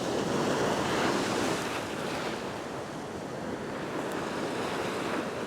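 Ocean surf rolls and breaks against a rocky shoreline in a continuous roar, with gusty wind buffeting the microphone and no voices.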